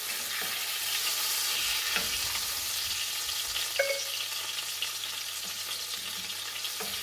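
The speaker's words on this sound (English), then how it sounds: "We are going to deglaze this with our broth or wine. I am using vegetable broth." Vegetable broth hits a hot pan to deglaze it after cooking for halibut with asparagus, producing a steady hissing sizzle that holds throughout at moderate volume with faint scraping.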